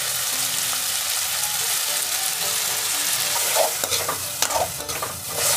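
Tomato and spice masala frying in a pan for dhaba-style cauliflower curry, a loud close hiss and sizzle with rhythmic stirring scrapes that grow more distinct toward the end; nobody speaks.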